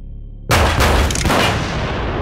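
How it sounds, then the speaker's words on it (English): A sudden loud boom bursts in at once, followed by a dense, rumbling blast that lingers and slowly fades, like gunfire echoing nearby. "Did you hear those gunshots?"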